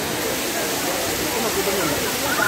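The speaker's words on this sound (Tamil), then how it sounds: "அருவியில் நல்லா தண்ணி விழுது" A Courtallam waterfall roars with steady, loud broadband rushing of falling water, continuous and close throughout.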